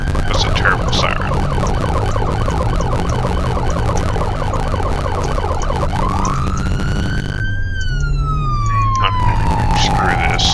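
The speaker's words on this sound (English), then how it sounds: "That's a terrible siren." A wailing police siren in the video game Flashing Lights rises and falls over a busy, noisy scene, then a single long tone sweeps up and slowly glides down near the end.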